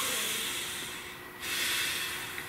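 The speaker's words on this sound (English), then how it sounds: "Nice deep breath." A single deep breath drawn in and released during a calm guided tarot reading, a soft airy hiss that swells, dips briefly and returns, close to the mic with no talk.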